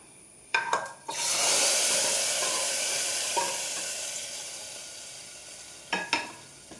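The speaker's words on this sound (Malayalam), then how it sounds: "ഇത് കുക്കറിലേക്ക് ഒഴിച്ച് കൊടുക്കാം" A sharp burst of sizzling as hot tempering oil is poured into curry in a pressure cooker, a loud hiss that slowly fades, with a few clinks of utensils before and after.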